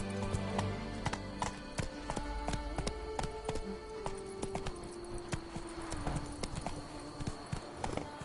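A horse gallops in The Witcher 3 video game, its hooves beating a quick, steady clip-clop rhythm close by over a low game soundtrack.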